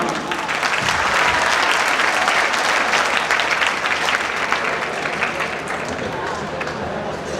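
Loud, sustained audience applause at an Urdu mushaira poetry gathering, dense steady clapping from a large crowd lasting throughout and fading slightly at the end.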